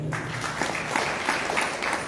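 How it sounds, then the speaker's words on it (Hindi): Loud, dense applause from a crowd at a talk, a continuous wash of clapping held at an even level throughout. "जोरदार तालियां सर"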